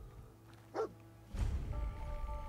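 The dog companion Dogmeat in the video game Fallout 4 gives a short, quiet bark, followed by a low muffled thump and faint game ambience.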